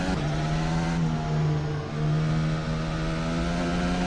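A Formula 1 car in a racing video game at Imola screams at high revs, the sustained engine note dipping briefly as it brakes into a downhill right-hander before climbing again.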